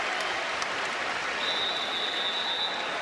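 A Kansas State vs Kansas basketball arena crowd claps steadily and loudly for departing players, a continuous even roar of hands with a faint tonal whine partway through.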